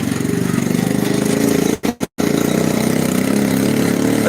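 Go-kart engines at a short dirt race track in Hanceville, Alabama sputter and idle with a loud, steady mid-pitched drone, briefly cutting out twice before catching and running again.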